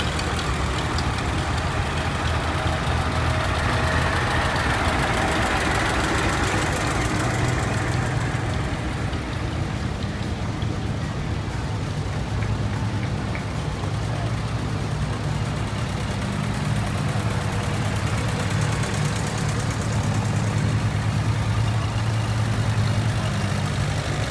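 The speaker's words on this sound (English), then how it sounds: "tractor parade in downtown Quitaque, Texas." Several heavy tractor engines idle and rumble steadily outdoors at a tractor parade in downtown Quitaque, Texas, a loud, constant low throbbing drone for a long stretch with no speech.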